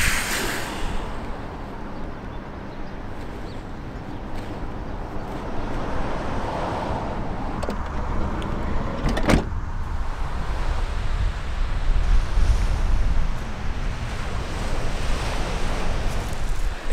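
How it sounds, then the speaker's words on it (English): Waves break and wash onto the beach at Goring Gap on a sunny day, a continuous loud surf roar mixed with wind buffeting the microphone, with no voices. "And we're down on the beach. Lovely sunshine. Down at Goring Gap."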